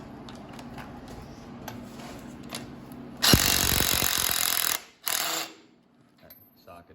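An impact-type power tool spins a bolt out on a 7.3 Powerstroke diesel engine using a 19 mm deep-well socket, giving one loud continuous burst of about a second and a half, then a shorter second burst, close up over quiet shop background.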